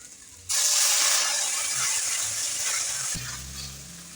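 Water poured into a hot pan of frying spices and aubergine pieces bursts into a loud sudden hiss that holds for a few seconds, then drops to a softer sizzle, with no talking.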